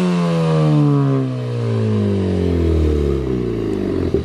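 A Camaro with a tuned 2.0-litre turbo engine revs loudly up and down, its pitch rising and falling in smooth sweeps, close and steady without speech.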